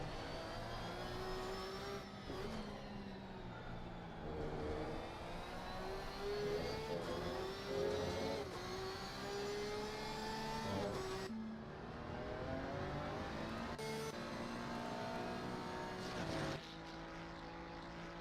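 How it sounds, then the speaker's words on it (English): A race car's engine drones and revs continuously near at hand in a racing sim at Silverstone, rising in pitch through each gear and dropping sharply at shifts and braking, with a deep exhaust note. "So weird hearing this car compared to the Porsche. That's such a deeper exhaust note."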